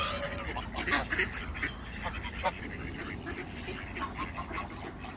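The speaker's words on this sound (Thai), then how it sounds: "น้องเป็ดน้องเป็ด" Ducks being fed bread and sunflower seeds quack in a busy, overlapping chorus at close range, with a few sharper calls that could be geese, and someone talks faintly over them.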